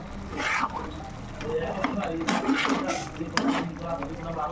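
Lote fish curry being stirred in a cooking pot, with scraping and clinking of a utensil against the metal in uneven strokes, close by, under steady talk.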